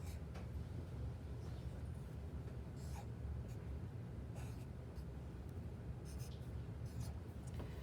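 A pencil draws triangles on paper, making a soft, continuous close scratching with brief strokes over a steady low background hum.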